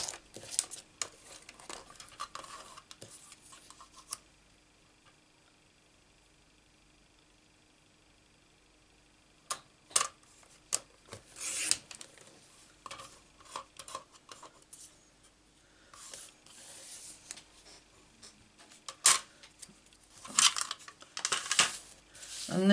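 Stampin' Up card stock is cut for a Blessing of Home card, heard as faint, close, scattered scraping and slicing strokes with quiet gaps between them, growing busier toward the end.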